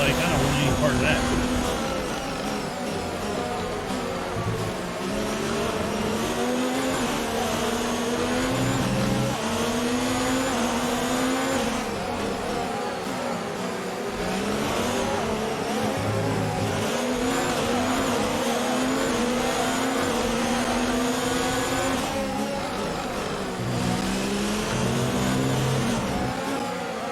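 An F1 race car engine in F1 2019 at the Sochi Autodrom in Russia, with internal combustion engine wear, drones loudly and continuously, its pitch sweeping up and down with the gear changes.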